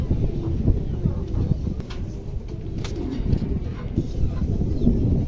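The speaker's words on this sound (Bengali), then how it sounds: "এখানে একজোড়া লাহুরি আছে, ব্লু বার্লেস।" A pair of blue barless Lahori pigeons cooing softly and repeatedly at close range, low murmuring calls running steadily through a noisy background.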